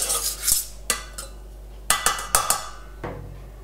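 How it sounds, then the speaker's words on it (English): Corn flour and orange juice being whisked in a saucepan for a blueberry and strawberry crumble, heard as a series of close, sharp metallic clinks and scrapes of whisk against pan at an irregular rhythm. "Now add the orange juice and whisk to make a smooth mixture"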